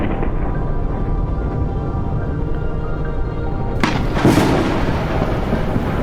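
A thunderstorm in the video game Forever Skies, a constant loud roar of wind and rain with a sudden sharp thunder crack and rumbling boom near the end.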